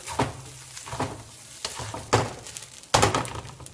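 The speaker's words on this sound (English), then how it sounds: "Give it another good stir." A spatula stirs fried rice with American smoked sausage in a hot, sizzling pan, scraping in about five separate strokes over a steady frying hiss, close and without talk.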